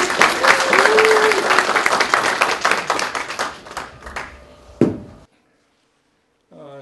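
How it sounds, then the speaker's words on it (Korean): An audience at a Korean youth development forum applauds to welcome a lecturer, a dense, steady clapping that tapers off and ends in silence, with a voice heard over the applause. "오늘의 명언 강사를 여러분의 힘찬 박수로 모시도록 하겠습니다"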